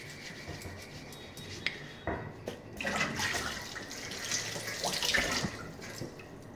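Eggs rinsed under a running kitchen tap, with a steady stream of water and splashing that grows louder midway, plus faint clinks of a bowl or utensils.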